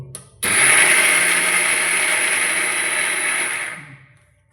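A kitchen blender grinding homemade protein powder runs steadily and loudly for about four seconds after a brief start, with a high whine and dense grinding noise, then winds down at the end.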